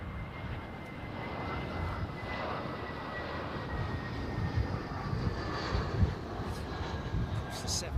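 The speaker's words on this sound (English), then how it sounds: "That's that American triple starting up." Engine of an American Airlines Boeing 777 starting up at Heathrow, a steady broad roar with a faint whine held throughout, heard from a distance with people talking over it.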